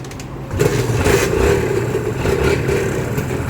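A small Thai motorcycle engine cranks and catches, then settles into a steady, close, fairly loud idle with no voices over it.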